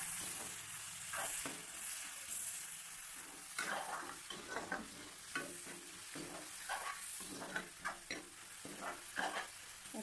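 Onions frying in a pan, with a low sizzle under repeated scraping and clinking stirs from a utensil against the pan, close up and fairly quiet, no voices.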